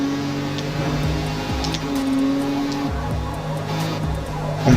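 A front-wheel-drive car in Forza Motorsport, its engine tone sweeping and shifting as it comes off a curve and gets back on the throttle, loud and close with clear gear-change steps and no talking.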